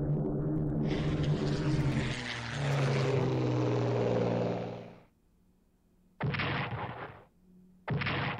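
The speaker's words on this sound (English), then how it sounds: "Medium bombers do a little bit of damage." A medium bomber attack plays out in a Strategic Command WWII strategy game, a loud droning aircraft engine roar lasting several seconds, then a brief silence and two short, sharp bursts of explosive impact.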